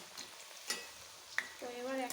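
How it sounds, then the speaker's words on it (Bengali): Palm-fruit lengcha dough balls fry in hot oil with a soft continuous sizzle, broken by a few clinks of a utensil and a short voiced sound near the end. "এগুলোকে লাল লাল করে ভেজে নেব"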